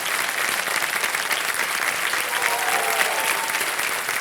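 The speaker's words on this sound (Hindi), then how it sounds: "तो ये जीती हुई के तालियां बजाएं इनके लिए।" A studio audience at the Indian quiz show Kaun Banega Crorepati claps for a junior contestant who has won 80,000 points, dense, loud, sustained applause throughout with no break.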